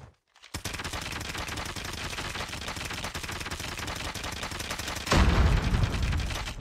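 A Bison submachine gun fires in Call of Duty Mobile as a long unbroken burst of rapid, evenly spaced shots that runs for several seconds. It ends in a louder, heavier boom with a rumbling low tail.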